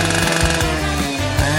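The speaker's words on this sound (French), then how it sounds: "Comme ma tronçonneuse." A loud chainsaw buzzes continuously with a pulsing, sputtering engine note, short and close.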